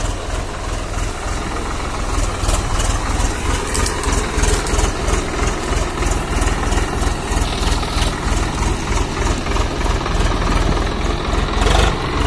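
A Swaraj 744 XT tractor engine hauling a trolley loaded with wet cow-dung manure, a steady low diesel chug with rhythmic knocking that runs continuously and fairly loud throughout, with no talk.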